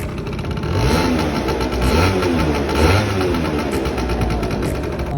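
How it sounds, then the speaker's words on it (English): Piaggio Vespa LX50 from 2005 with a two-stroke engine and freshly cleaned carburetor idling loudly and up close, a buzzy steady drone with slight uneven swells and no talking. "Let the idle settle down."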